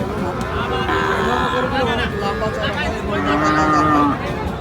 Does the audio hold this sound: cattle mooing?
yes